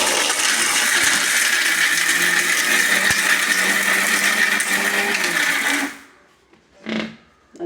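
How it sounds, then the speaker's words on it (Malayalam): A kitchen mixer grinder powders dried arrowroot in its jar with a loud, steady high whir for about six seconds, then cuts off, leaving faint clinks and handling sounds. "ഇത് എന്നിട്ട് മിക്സിയുടെ ജാറിലോട്ടിടും. എന്നിട്ട് ഇതിന് നല്ലോണം പൊടിച്ചിടും."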